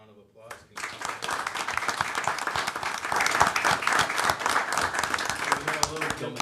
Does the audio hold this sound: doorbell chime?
no